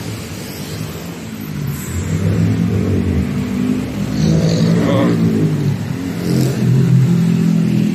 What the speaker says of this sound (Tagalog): Kabilaan, may traffic.